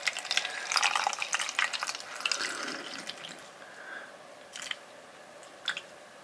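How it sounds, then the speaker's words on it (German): Distilled water is poured into a wobbly plastic cup that holds a hollow fiber water filter, a close, bright splashing stream that tapers off, followed by a few isolated drips and trickles. "Und befüllen das Ganze mit dem destillierten Wasser."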